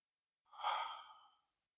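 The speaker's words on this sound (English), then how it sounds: "A couple more breaths here." A single slow, soft breath out during chair yoga, a gentle airy exhale lasting about a second, close and quiet against silence.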